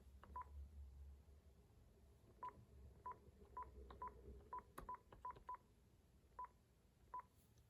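A telephone being dialed as numbers are entered, a series of short, clear touch-tone beeps, single and in quick pairs, spaced irregularly over a low background hum.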